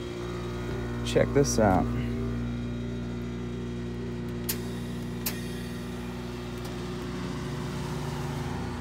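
An air compressor fills the air tank on a junkyard Ford truck with a 302 build, a steady droning hum held throughout, with a brief spoken remark near the start.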